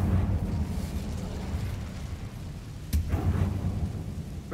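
An Incendio fire spell is cast in Hogwarts Legacy, a deep rumbling whoosh with a sharp crack near the three-second mark followed by a fiery roar, loud and close with no speech.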